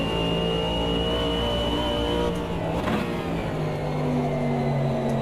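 A race car engine in Automobilista 2 drones steadily and loudly with a sustained high whine, and a brief swell suggests a car passing close alongside.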